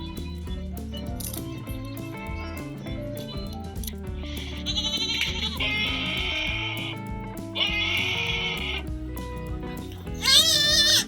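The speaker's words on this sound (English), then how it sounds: "Goats are supposed to make normal animal sounds, but some goats completely miss the memo." A goat letting out loud, drawn-out bleats that sound strangely like human screams, in repeated bursts over a bed of music, the last cry the loudest.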